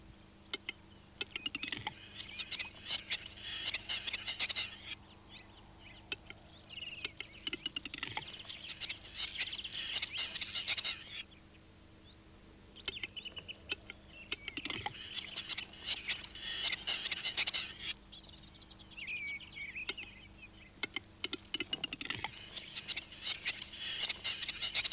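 Western capercaillie courtship display in the Vosges forest: rapid clicking and ticking bursts come in repeated phrases separated by brief pauses, with faint chirps and rustling in between.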